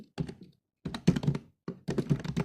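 Typing on a computer keyboard: close, clattering keystrokes in three quick bursts separated by short silences.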